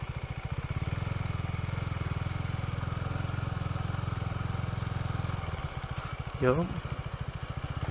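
A Husqvarna Svartpilen motorcycle rumbles close by with a steady, throbbing low engine note while being ridden off-road through a city park, then eases off and revs briefly; a voice speaks once.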